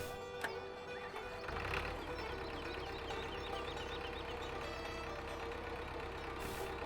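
A small old tractor engine turns over and runs, a steady low knocking idle with a brief louder burst early on, close and continuous without talk.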